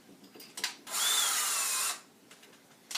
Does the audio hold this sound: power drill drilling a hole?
yes